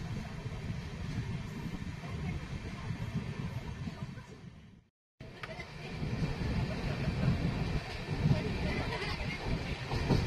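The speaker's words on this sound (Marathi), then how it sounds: "चला आता आपला हा कोकण रेल्वेचा प्रवास आता चालू ठेवूया आणि एन्जॉय करूया" Passenger train travelling on the Konkan Railway, heard from inside as a continuous low rumble and rattling of wheels on track, steady and moderately loud with a brief drop-out midway.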